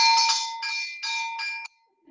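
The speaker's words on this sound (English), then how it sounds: "The sheep bell" A sheep bell rings clearly during a core exercise class, a bright metallic clanging in several quick bursts over about a second and a half, then it stops and fades into quiet.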